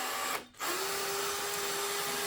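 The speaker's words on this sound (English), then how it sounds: "So sometimes you can just take your drill." A power drill removes a screw from a Concept2 Model D rowing machine, whirring steadily at close range after a brief pause, its motor holding a constant high whine.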